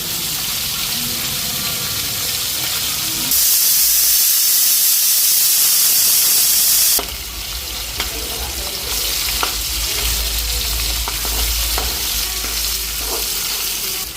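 Onion frying in hot oil alongside koi fish, a loud, dense close-up sizzle that surges into a brighter hissing burst for a few seconds, then settles back to steady crackling with occasional stirring clinks.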